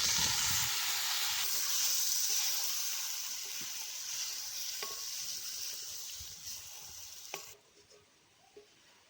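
Marinated cauliflower frying in hot oil, a steady loud sizzle and hiss that slowly fades, with a few light utensil knocks near the end.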